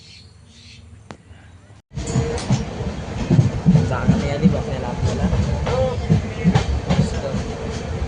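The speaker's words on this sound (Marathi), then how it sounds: "बघूया आता येते कधी ट्रेन." A passenger train rolls along with rhythmic clickety-clack and a rumbling, rattling carriage sound, starting abruptly after a quieter stretch and continuing loudly. A voice speaks briefly inside the carriage.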